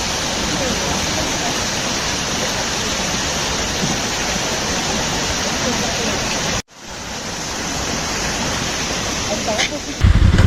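A forest stream near Kodaikanal rushes past a bridge with steady, loud broadband roar, briefly cut off near the middle before resuming, with a little handling noise at the end.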